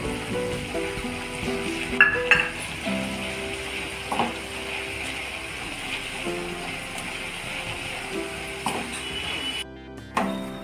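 Potato mixture for menduvada being stirred quickly in a pan, soft scraping and faint sizzling with a few utensil clinks, close but low, no voices.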